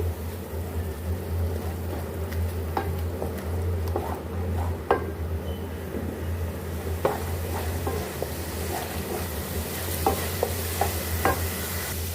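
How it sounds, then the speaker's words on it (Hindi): Garlic, ginger and crushed green chillies sizzle steadily in a pan with scattered scraping and stirring clicks, a continuous low background hum underneath. "हरी मिर्चें हमने कूट लिया था वो इसमें हम डाल लेंगे और इसको भी हम फ्राई कर लेंगे"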